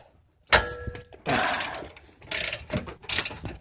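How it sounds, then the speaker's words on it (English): A ratchet wrench spins to loosen a bolt on Airrex airbag suspension on a Mitsubishi Evo X, giving several close, loud runs of rapid metallic clicking with short pauses between. "So you can see I'm spinning there and the wrench is stuck there, so you can just keep on going and it'll come off."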